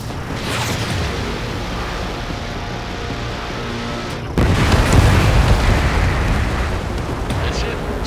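An enemy bomber explodes in the combat flight game Ace Combat 7: Skies Unknown, a broad roaring rumble that jumps suddenly louder midway and keeps booming over sustained engine noise.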